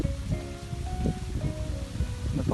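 Soft rustling of coconut palm fronds stirred by wind on a mountain cornfield, a gentle continuous swish with faint background hum.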